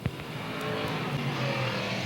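Modified race cars pull away after a two-car collision on a dirt oval. A steady, loud engine roar fills the track, with a brief skid or tire noise at the start.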